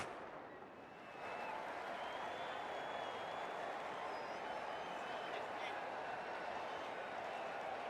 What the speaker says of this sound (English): it's a loud crowd as the players make their way out